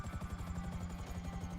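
A helicopter in a video game gives a steady, rhythmic rotor chop with a constant engine whine, heard alone at moderate loudness throughout.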